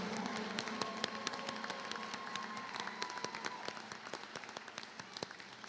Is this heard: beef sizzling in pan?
no